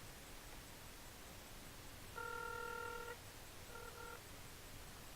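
A phone call being dialed, with steady dial-tone-like beeps lasting about a second followed by a shorter beep, faint and alone over a quiet hiss.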